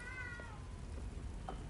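Homer the cat meows in the video game Forspoken, one clear meow near the start and a fainter brief cry later, over a constant rumbling background.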